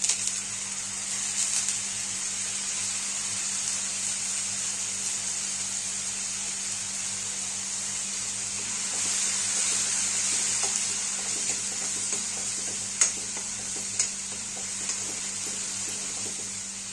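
Grated coconut roasts in a pan with a steady, close sizzle and hiss. Faint stirring clicks and scrapes drift in now and then over a constant low hum.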